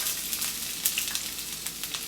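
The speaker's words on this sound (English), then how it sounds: "You hear that sizzle?" Vegetables sizzle in hot avocado oil in a skillet, a steady close frying hiss with small pops and crackles throughout.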